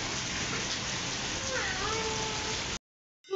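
Heavy rain pours down in a dense, steady hiss, with faint whistling tones partway through, then cuts off abruptly near the end before a brief new sound starts.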